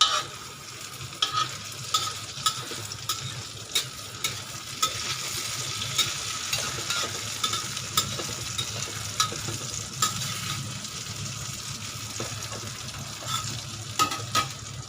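Eggplant frying in a pan gives a steady, moderately loud sizzle with crackles and occasional sharp pops throughout. The sound is close and continuous, with no talk.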